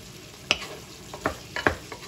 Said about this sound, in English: put the lid on and let the sausages cook